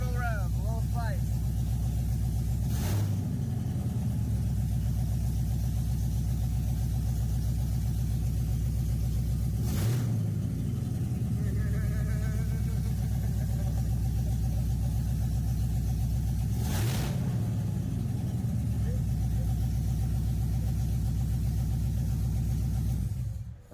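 A loud idling car engine with a blown head gasket and misfire is revved three times at regular intervals, each rev a short sharp surge before settling back to a steady rumble.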